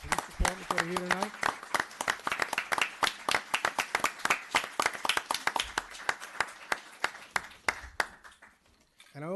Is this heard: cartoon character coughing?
no